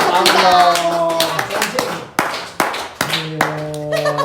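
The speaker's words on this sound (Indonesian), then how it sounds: "Tepuk tangan dong." A studio audience on a talk show claps in several short bursts with sharp hand hits. Voices and tonal sound run over and between the bursts.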